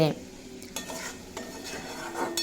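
Peas being stirred and sautéed in a pan for a vegetarian ghugni, with a steady low sizzle and scraping strokes of a spoon recurring every second or so, close and fairly quiet.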